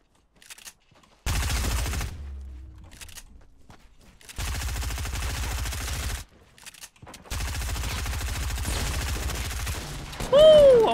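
Automatic gunfire in Fortnite's Halloween event, three long sustained bursts of rapid shots separated by short silences, loud and close, ending with a rising whistling effect.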